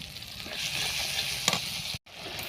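Turmeric, chopped tomato, chili powder and ginger paste fry in a pan, a bright close sizzle with a spoon scraping through it and one brief sharp clatter, then a momentary dropout before the sizzling resumes.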